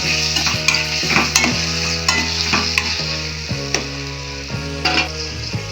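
Tomatoes sauté in a pan for mutton kuzhambu, a continuous close sizzle broken by regular spoon scrapes and knocks against the metal, with a low steady hum running underneath.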